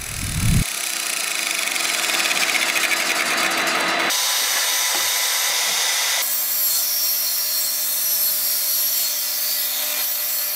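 Material is cut into a rectangle for making a hobby fretsaw, a loud continuous harsh cutting noise that holds steady, with abrupt changes in tone partway through as the cut goes on.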